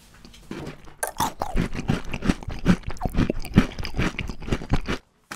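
Crunchy chocolate-coated Digestive balls chewed close to the mic, with a steady run of loud, crisp bites and crunches over a few seconds, then a sudden stop.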